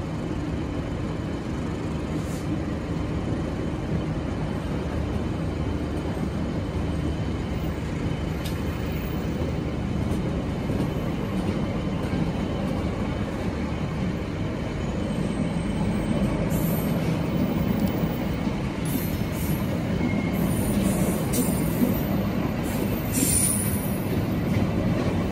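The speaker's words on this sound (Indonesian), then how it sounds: "kita sekarang tengah bertemu dengan kereta api Ciremai dari stasiun Bandung tujuan ke stasiun Semarang Tawang" The Ciremai passenger train, running from Bandung to Semarang Tawang in Indonesia, rumbles past steadily and close by, with continuous wheel noise and occasional high metallic squeals, no voices.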